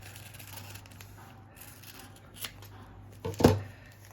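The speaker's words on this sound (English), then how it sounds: "let's cut this one in half as well" A single quick snip of scissors cutting a quilting half-square triangle in half, near and fairly faint, after a quiet stretch with soft handling sounds.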